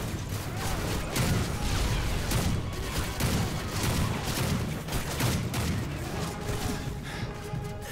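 Heavy, continuous gunfire from a Modern Warfare 3 battle, a dense mix of overlapping shots and rattling bursts with booming low rumble, steady and loud throughout without speech.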